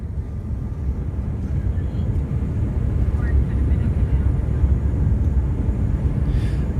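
A passenger jet climbing after takeoff from Hurghada on a short flight to Luxor gives a steady, loud, low cabin roar that holds evenly throughout with no other clear sounds.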